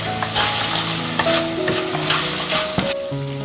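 Diced chicken and walnuts stir-fry in sweet bean sauce with a loud, close sizzle, while a spatula scrapes and clanks rapidly against the wok throughout, with no voices.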